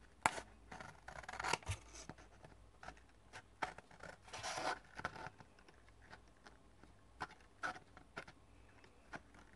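Scissors cut around a paper tag in short, close, crisp snips and rustles, with small pauses between cuts and no talking.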